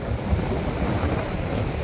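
Rough, continuous roar of wind buffeting the microphone over churning surf, loud and unbroken for a couple of seconds.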